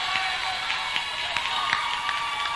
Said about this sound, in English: The crowd's very loud.